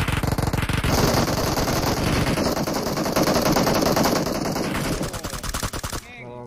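Dense bursts of automatic gunfire crackle almost nonstop in a PUBG Mobile battle royale match, loud and close, with rapid overlapping shots before the barrage thins and stops near the end.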